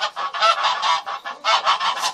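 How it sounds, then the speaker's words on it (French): Guinea geese give a close, loud series of rapid nasal honks in two bursts with short pauses, with no voices. "Et c'est des oies de Guinée."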